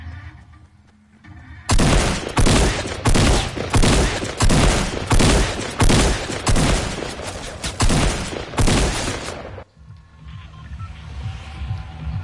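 Silenced SMG fire in Fortnite: a rapid, evenly paced run of muffled bursts lasting about eight seconds, loud and close, then stopping abruptly into quieter game ambience.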